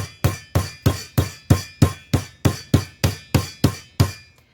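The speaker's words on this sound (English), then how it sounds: "you're just gonna pound it out until it's about a 1/4 inch thick" A meat mallet pounds pork chops flat for Southern fried pork chops, thirteen sharp, evenly spaced thuds close by with no talk.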